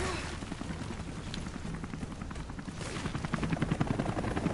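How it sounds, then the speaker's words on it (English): A helicopter in Rise of the Tomb Raider thrums in a steady rotor chop that grows louder toward the end, mixed with dense noise from the game. "There's a chopper!"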